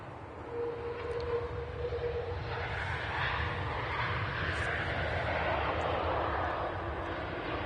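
A British Airways airliner taxis at Manchester Airport, its engines a steady, distant roar with a faint whine, continuous and moderately quiet with no talk.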